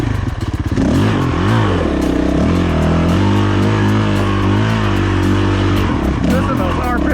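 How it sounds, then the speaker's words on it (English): A dirt bike engine revving hard on a trail, loud and close, its pitch sweeping up and down through repeated throttle blips with rattling clatter, while a rider talks over it. "Listen to those RPMs."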